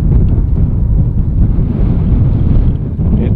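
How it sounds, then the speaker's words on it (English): Gusty wind buffets an external camera microphone outdoors at an airport plane-spotting location, a steady loud rumbling roar with rough low-end thumps and no break throughout. "Getting gusty, kids."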